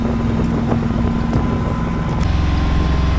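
A sailboat's inboard engine drones steadily as the boat motors against a strong current at about seven knots, a loud continuous low hum with wind buffeting the microphone and no talk.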